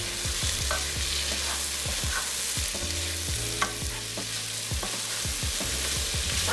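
Watermelon pieces cook in a pan for a summer melon soup, a busy sizzle threaded with repeated scraping and stirring knocks in an irregular rhythm, close and steady.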